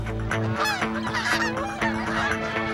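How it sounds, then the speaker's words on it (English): A flock of geese honking repeatedly, loud and close, calls overlapping in a busy chorus over a low steady hum. "The local geese are heading south to safety."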